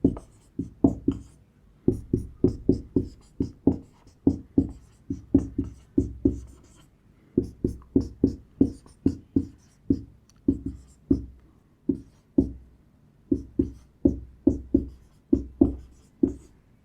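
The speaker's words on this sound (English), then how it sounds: "So writing down all the factors of the given numbers" Hand-writing of factors for numbers with a pen or pencil on paper, a steady run of close, scratchy strokes in quick repeated bursts with brief pauses between them, no talking.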